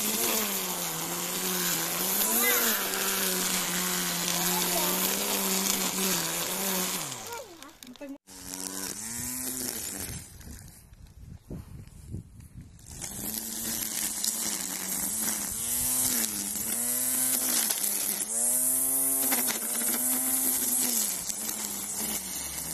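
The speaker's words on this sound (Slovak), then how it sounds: "Aj takáto malá strunová akumulátorová kosačka nájde určite svoje uplatnenie v domácnosti a na záhrade." Small cordless battery-powered string trimmer running steadily with a high whine, briefly cutting out and then restarting and revving in pulses, close and loud, with a voice talking over it.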